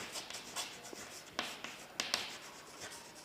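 Pen scratching across paper while an accountancy sales book is filled in, soft and close with a few sharper taps and strokes, very quiet and no talking.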